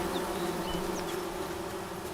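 A dense swarm of bees drones continuously after a hive is struck in the video game Among Trees, a steady buzzing hum close by with faint higher whines from individual insects passing.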